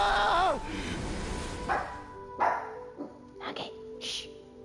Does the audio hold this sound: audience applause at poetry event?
no